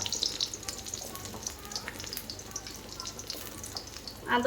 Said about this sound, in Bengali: কিছু সময় একটু ফ্রাই করবো পেঁয়াজ।